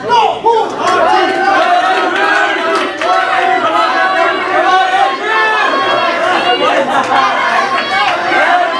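A class team cheers for a runner during a relay-style exercise, a loud crowd of young voices shouting and whooping together continuously and close by.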